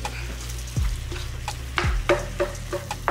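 Ground meat frying in a pan for lasagna sauce, stirred and broken up with a utensil: steady sizzle under scattered scraping knocks and clanks against the pan, no talking.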